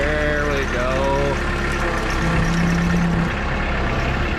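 An old tractor engine idles with a steady low rumble throughout, close and constant, while people talk over it.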